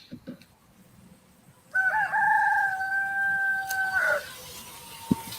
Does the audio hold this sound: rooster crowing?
yes